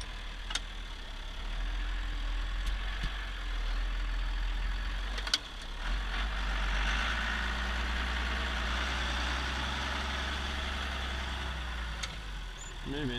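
A tractor engine idles with a steady low rumble throughout, with occasional faint clicks and knocks from nearby work.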